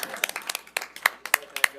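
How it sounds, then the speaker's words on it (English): A small group at a board of directors meeting claps in sharp, uneven bursts, close by and mixed with voices. "I just feel like we have to clap."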